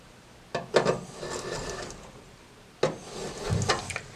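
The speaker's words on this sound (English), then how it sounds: "Deburr these holes with the deburring tool" A hand deburring tool scrapes around rivet holes in an aluminium part for a Sonex aircraft build, two short bursts of close scratchy rasping strokes with a quiet pause between them.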